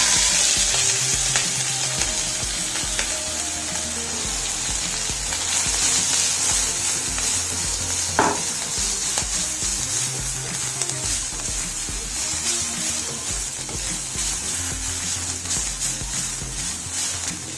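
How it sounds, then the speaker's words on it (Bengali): Chopped vegetables for a spring roll filling cooking in a wok on a gas stove, a continuous close hiss and sizzle with occasional stirring scrapes, steady and loud, with no talking. "গ্যাসে কড়াই বসিয়ে দেবো এবং এই সবজিটা একটু কুক করে নেব।"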